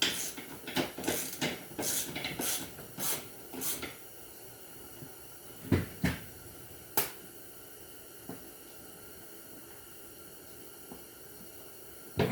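A 16 millimeter wrench clicks and ratchets against a winch bolt during a winch install, a run of sharp close metallic clicks at first, then sparse isolated clicks over a quiet background.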